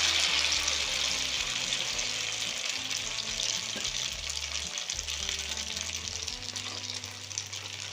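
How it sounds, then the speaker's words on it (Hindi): Batter-dipped folded bread shallow frying in a pan of oil, a steady, loud hiss of sizzling that runs the whole time with a faint low hum beneath and no talk. "अब इसे इस तरह से फोल्ड करके सैलो फ्राई कर लेंगे।"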